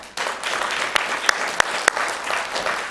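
Applause breaks out at a county board of supervisors meeting, a steady patter of hand claps from a modest audience with a few sharper claps standing out, and no voices.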